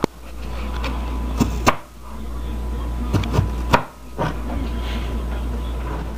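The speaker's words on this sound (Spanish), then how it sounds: "Pica los jalapeños." A knife chops jalapeños on a cutting board, a handful of sharp knocks spaced irregularly in small groups over a low steady hum, close and distinct.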